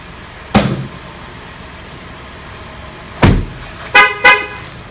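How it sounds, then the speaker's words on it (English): A 2016 Ford Flex's horn honks four times after the key is removed with the engine running: one short blast, a pause, then three more in quick succession, loud and close. "it's going to honk because I took the key out of the car with it running"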